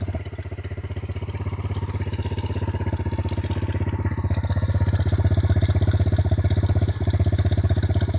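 An X22 Fighter Super Pocket Bike with a 110cc Chinese engine idles nearby, a steady, fairly loud low rumble with rapid even firing pulses and a brief dip near the end.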